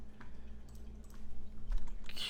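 Typing on a Dvorak-layout computer keyboard during a speed test, a run of soft, close key clicks in an uneven rhythm over a low steady hum, with no talking.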